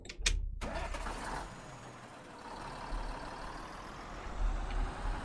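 A KhTZ tractor engine in Farming Simulator 19 cranks over and catches after a short burst, then settles into a steady low diesel rumble that swells slightly near the end, with no talk over it.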